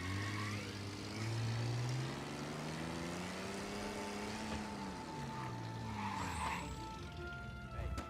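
Reckless car driving in the Mafia video game: an engine rising and falling in pitch with screeching tire skids, heard close and steady throughout, with no one speaking.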